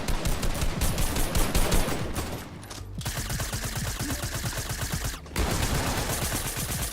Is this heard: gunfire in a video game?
yes